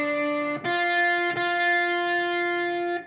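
Electric guitar slowly picking a part of a song, with sustained distorted notes that ring on and three clearly separated attacks, close and alone.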